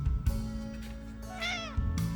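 A cat gives a single clear, rising-then-falling meow over low background hum, close and alone.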